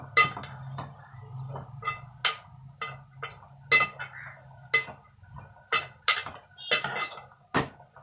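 A metal spoon clinks and scrapes against a pan while stirring drumstick-leaf stir-fry, irregular taps and stirring strokes close up, with quiet moments between them.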